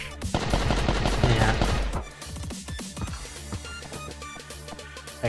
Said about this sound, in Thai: ใช้อูซี่นะผมอูซี่ในการยิงรัวๆเลยนะ